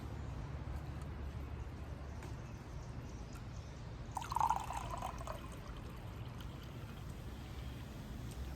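Dr Pepper soda poured from an opened can into a glass of Mellow Corn whiskey, a soft trickling and splashing pour that starts about halfway through and runs steadily under a faint background hiss.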